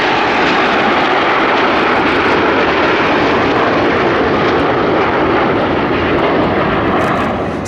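Italian Frecce Tricolori MB-339 jet trainers flying an aerobatic airshow display over Cold Lake, a loud, steady roar of jet engines sustained throughout with no break or talk.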